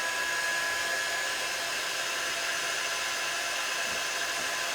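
Hair dryer blowing steadily to dry a coat of chalk paint on a craft piece, a loud, unbroken airy whoosh with a faint high whine that lasts the whole time with no pauses or talking.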